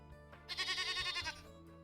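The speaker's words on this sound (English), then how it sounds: "We've got 2 sheep." A sheep bleats in the colony-management video game One More Island: one drawn-out, wavering bleat, clear and fairly close, over a soft game background with no talk.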